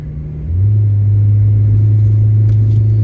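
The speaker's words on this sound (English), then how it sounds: "I'm sorry about my muffler, guys. It's noisy. It's loud." Car engine with a loud, noisy muffler, a deep steady exhaust rumble that rises in pitch as the engine picks up and then drones on close by, with no talking.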